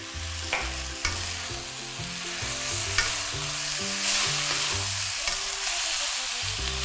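Stir-fried rice vermicelli (mee sua) tosses in a pan with a loud, steady sizzle and occasional sharp spatula knocks, while soft background music plays underneath.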